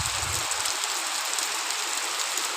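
Steady rain falls outdoors in a village in a continuous soft hiss, moderately loud and even, with no voices.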